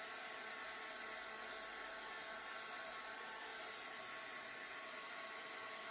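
A heat tool or dryer blows steadily over a mixed media panel to dry a layer of paint, a continuous loud broadband whoosh with a fan hum that holds unchanged throughout and no talking.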